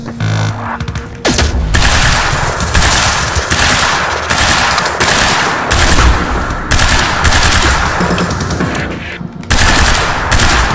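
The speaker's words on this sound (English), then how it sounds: "I'm getting reports of gunfire in the underground parking." Sustained automatic gunfire in an underground parking garage in the Quantum Break video game, loud and dense bursts rattling continuously with brief pauses between volleys.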